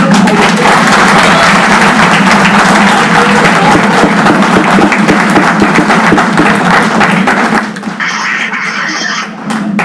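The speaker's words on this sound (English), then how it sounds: "please give a big round of applause to Colonel Mangat" A school audience of children applauds a visiting colonel after a motivational talk, a loud, sustained round of clapping that fades toward the end.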